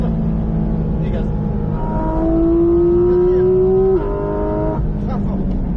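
A Porsche GT4 RS accelerates on a circuit, its engine note climbing sharply through a rising howl before cutting off at a gear change, heard from inside the car while someone talks over it.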